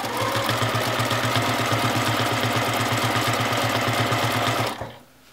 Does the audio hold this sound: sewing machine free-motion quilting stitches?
yes